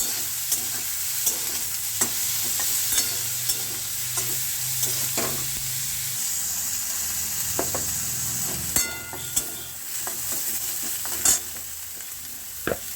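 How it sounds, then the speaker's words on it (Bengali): Potatoes frying in a wok, a steady close sizzle with scattered scraping and clinking from stirring, occasional sharper clicks. "এবার আলুগুলো দিয়ে ভালো করে ভেজে নেব"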